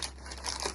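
A brief, quiet crinkle of a thin plastic bag being pulled open, rustling softly for under a second.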